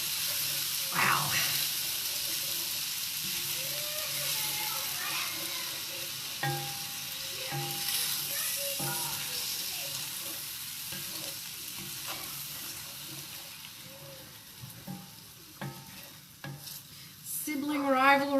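Wild mushroom carbonara sauce being stirred through chicken in a pan, with a steady scraping stir over a low sizzle, occasional utensil clinks and a few louder knocks near the end, no talking.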